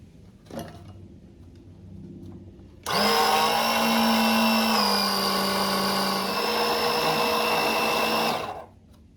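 Electric pump drawing power steering fluid out of a 1999-2003 Ford F250 7.3 Powerstroke, switching on with a loud steady whine that holds for about six seconds and then stops, after a brief clunk.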